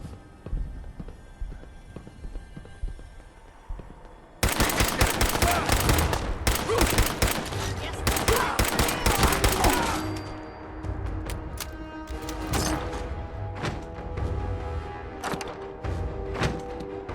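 Fallout 4 gunfire: dense rapid bursts of automatic shots blasting continuously for several seconds, then scattered lighter shots and thuds, loud and close, with some talk mixed in.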